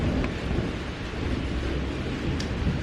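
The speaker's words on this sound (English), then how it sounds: "It's not heavy rain, but the storm is a-coming" Rain falls steadily with a low rumble of thunder underneath, a constant wash of noise from a stormy sky.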